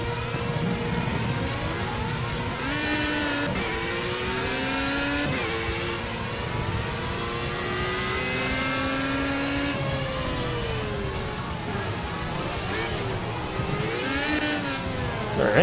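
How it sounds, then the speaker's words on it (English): A loud race car engine in the video game Project CARS revs continuously, its pitch rising and falling in repeated sweeps as it accelerates and shifts, with no voices. "this car is loud"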